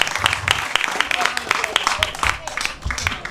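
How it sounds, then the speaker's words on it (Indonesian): Scattered clapping rises from an audience at a Balinese dramatari performance, irregular and moderately close, with voices talking over it. "Tepuk tangan untuk penabur dua ini dumun."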